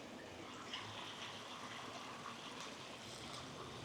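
A creek beside a Gatlinburg motel flows faintly and steadily, a soft continuous rush of water in the distance.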